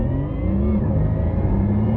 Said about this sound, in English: You can hear the gear shift there.